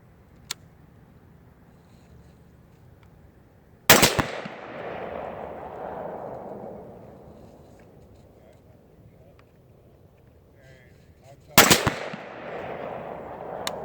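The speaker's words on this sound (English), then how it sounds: "let's go ahead and pop a few rounds down on that 100 yard target" Two sharp, loud rifle shots at a 100-yard range target, several seconds apart, each followed by a long rolling echo that fades into faint outdoor background noise.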